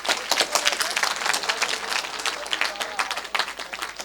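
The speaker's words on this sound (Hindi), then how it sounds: "करण सिंह जी के लिए जोरदार तालियां।" Clapping from the audience at a Sanskrit quiz during a poetry festival rewards a college contestant, a lively, uneven patter of many hands with distinct individual claps standing out, no voices over it.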